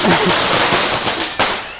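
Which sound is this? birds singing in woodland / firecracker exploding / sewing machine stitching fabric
firecracker exploding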